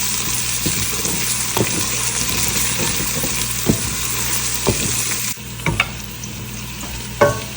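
Ingredients for dal makhani fry in a pan with a continuous sizzle, broken by scraping spoon strokes against the metal every second or so, close and fairly loud.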